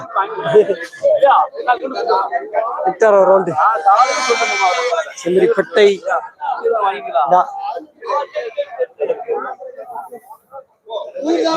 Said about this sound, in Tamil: எல்லாம் செம்மறி தான்